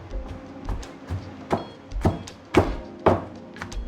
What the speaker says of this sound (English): We don't want to overfill our mortar, so we just pound this.